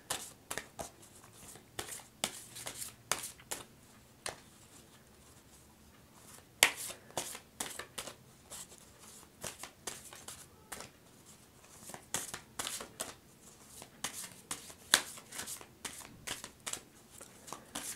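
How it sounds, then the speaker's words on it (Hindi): Tarot cards being shuffled by hand, close and soft, in repeated quick riffling bursts separated by short pauses, with no talking. "मैं लाइव शफल करूंगी"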